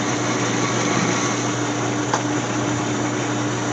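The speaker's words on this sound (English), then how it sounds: "I'm just going to bring in the cross feed" A metal lathe runs steadily as the cross feed is brought in while a small-block Mopar distributor is modified. It produces a close, even motor hum with a faint tonal whine and no talk.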